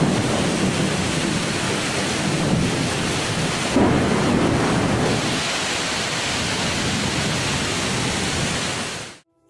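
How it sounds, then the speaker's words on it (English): Torrential cyclone rain pours down in a dense, loud, unbroken roar with rumbling thunder mixed in, holding steady for nearly ten seconds before cutting out abruptly, with no voices. "a powerful cyclone unleashed torrential rains"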